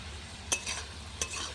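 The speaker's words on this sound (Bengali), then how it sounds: "আদা রসুন বাটাটা দিয়ে একটু ভাজা ভাজা করে নেবো" Ginger garlic paste fries in a pan over a clay stove, giving a soft, steady sizzle broken by two sharp scraping stirs; no one speaks.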